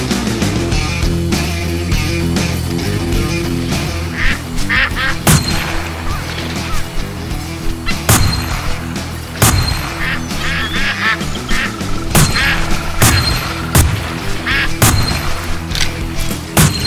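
A duck call quacks in the Duck Dynasty video game, repeated loud quacking blasts over busy game music and effects, with sharp clicks at irregular intervals across the whole stretch.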